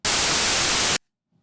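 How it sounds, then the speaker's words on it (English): A loud, steady burst of broadband white noise test signal from DaVinci Resolve's Fairlight signal generator, hissing for about a second, then abrupt silence. "So here's white noise,"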